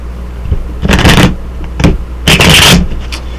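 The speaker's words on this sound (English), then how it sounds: "Okay, give it one more good shuffle." Tarot cards are shuffled up close in a few quick riffling bursts, crisp papery flutters separated by short pauses.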